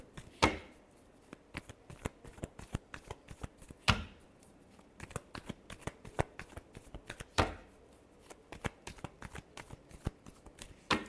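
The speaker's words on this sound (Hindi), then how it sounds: "last shuffle" Tarot cards being shuffled close up, with quiet, rapid riffling patters broken by three sharper slaps as the deck is squared, all in a quiet room.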